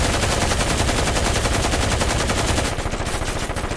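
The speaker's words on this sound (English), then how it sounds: "wow, that's a lot of gunfire." Rapid automatic gunfire in the game Ground Branch rattles in a dense, continuous burst, loud and close, easing slightly toward the end.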